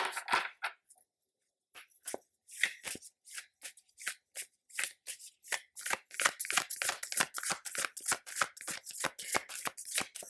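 Tarot cards being shuffled and pulled by hand, a run of crisp riffling and snapping card sounds, close and fairly quiet, with a brief pause near the start and no talking.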